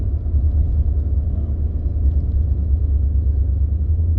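Steady low rumble of a 2015 Ford F-150 with the 5.0 engine running while driving, a smooth, constant drone with road noise and no gear changes or voices.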